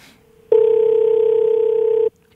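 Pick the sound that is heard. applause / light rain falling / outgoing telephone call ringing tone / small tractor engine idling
outgoing telephone call ringing tone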